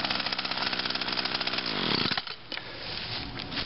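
A 2011 Echo PAS 230 petrol trimmer with a 22.8 cc two-stroke engine runs close by at high revs with a buzzing, pulsing drone, then drops abruptly toward idle about two-thirds through.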